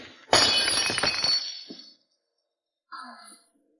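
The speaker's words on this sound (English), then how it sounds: "President Fu, this woman broke your vase too." An antique jade vase smashes in a dramatic indoor scene: one sudden loud crash with a burst of scattering fragments that fades over about a second, then silence and a brief faint tinkle.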